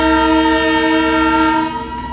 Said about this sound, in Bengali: ওই যে আসছে টয় ট্রেন ওপর থেকে, তাই আমি ক্যাপচার করছি এটাকে।